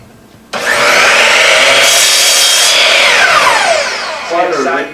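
A miter saw with vacuum dust collection cuts through wood: the motor spins up sharply, whines loudly for several seconds through the cut, then winds down, and there is a brief bump near the end.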